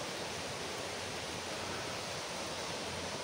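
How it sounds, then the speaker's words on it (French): A small stream flows with a constant, even hiss of running water, fairly close and steady throughout, with no talking. "Punaise, il y a un autre ruisseau quoi."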